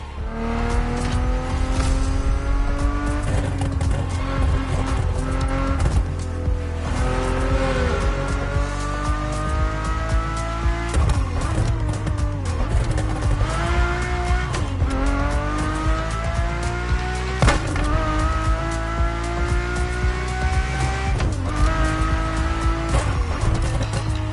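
Ferrari F40 and F50 engines in the racing game The Crew Motorfest, roaring loudly and continuously with repeated rising revs through the gears and occasional tire squeal, with no talking.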